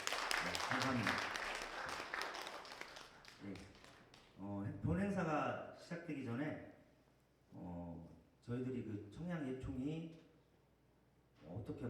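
Audience applause for a Korean acoustic guitar singer's performance at a local arts federation inauguration ceremony, dense clapping for the first few seconds that fades into someone talking over scattered claps.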